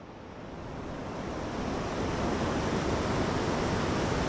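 Rushing waterfall stream at Doodhpathri, Kashmir, a steady broadband roar of churning water that swells over the first second and a half, then holds loud and continuous with no voices.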